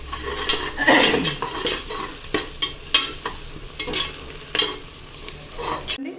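Frying in a pan while making chicken biryani: close, crackling sizzle punctuated by rhythmic spatula scrapes and light metallic knocks against the pan, with no one speaking.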